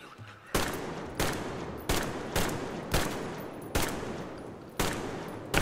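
Heavy gunfire in the post-apocalyptic shooter Metro Exodus: seven loud, evenly spaced single shots roughly every second, each a sharp crack with a long ringing tail, close and clear with no talk over them.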